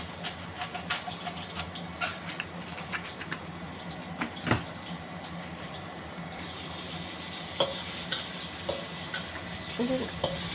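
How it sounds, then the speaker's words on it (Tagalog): Shrimp and garlic stir-fry in a pan with a steady sizzle, punctuated by scattered clicks and scrapes of stirring. "Gisa-gisa, i-fry lang natin muna guys."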